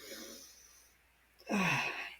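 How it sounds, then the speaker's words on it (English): One close, audible inhale through the nose as part of a slow breathing exercise, arriving after a quiet pause and rushing briefly before fading. "First, you breathe in through your nose for 4 counts."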